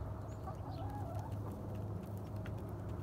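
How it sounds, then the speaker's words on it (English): A rooster and chickens cluck softly and steadily in the background on a homestead, with a low constant hum and a few scattered bird chirps, fairly distant and quiet. "So, this is our rooster."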